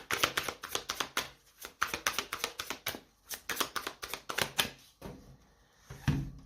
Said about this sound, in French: Allez, on va poser 8 cartes.